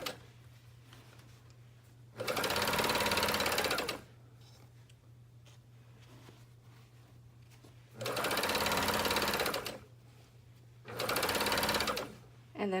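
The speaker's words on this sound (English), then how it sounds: "sew at 3/8 of an inch seam allowance" A sewing machine stitches the gusset seam of Greenstyle Super G tights at a 3/8 inch allowance, running in three loud, steady bursts of fast stitching separated by quieter pauses with a low hum underneath.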